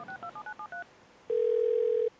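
Six short touch-tone beeps are keyed in quick succession on a telephone, then after a brief pause a steady, loud ringback-style tone holds for nearly a second.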